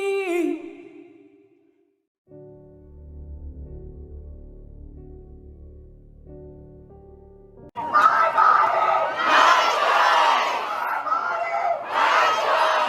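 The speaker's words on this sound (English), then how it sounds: "They shouted, hoping this time they'll be heard." A crowd of abortion-rights protesters shouting together, a loud, dense mass of raised voices swelling in the last few seconds after quieter music-like tones.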